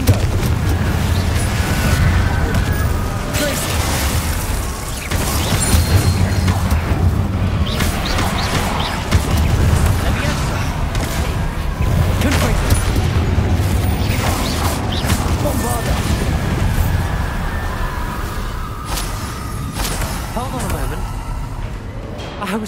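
Confringo spell blasts in Hogwarts Legacy, repeated bursts and crashes scattered through a long, busy stretch of game combat with a voice talking over it.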